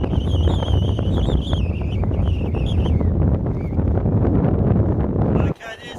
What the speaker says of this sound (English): the wind's blowing really strong up here